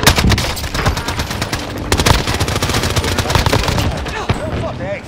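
Dense gunfire rattles almost without pause in Call of Duty: Modern Warfare, bursts of automatic fire layered over one another at close range, with a voice speaking through the barrage.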